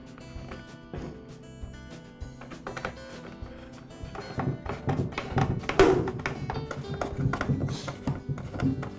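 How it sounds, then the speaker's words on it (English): Screws are driven in by hand to fasten the plastic housing of a Troy-Bilt leaf blower during repair, giving dense clustered tapping, rattling and clicking that grows busier and louder midway. "And now secure the housing with the screws."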